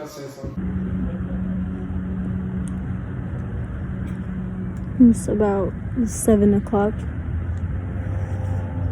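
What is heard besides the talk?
traffic at a bus stop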